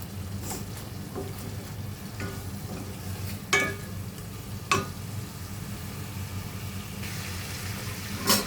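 Masala for veg biryani sautéed in a pan, a low steady sizzle under repeated scraping stirs and a few sharp clinks of the spoon against the metal.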